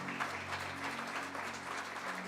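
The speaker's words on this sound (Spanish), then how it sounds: "Dale un aplauso al Señor." A church congregation claps together in a steady wash of applause, moderately distant and fairly quiet, with a low sustained hum beneath the clapping.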